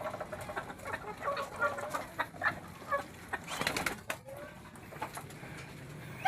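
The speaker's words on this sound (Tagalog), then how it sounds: "So kumain na rin yung mga bantam natin dyan." Bantam chickens cluck and murmur in a backyard pen, with overlapping bird calls and soft coos in a busy, moderately close chorus that continues throughout without speech.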